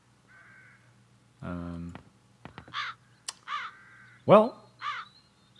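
Crows caw in the video game Chains of Satinav, several harsh, clear calls in quick succession following a brief spoken word, over a low steady background hum.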